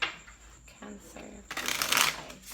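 Tarot cards are shuffled close by, a soft riffling then a louder, brisk flurry of card slaps, with a voice speaking briefly over the start.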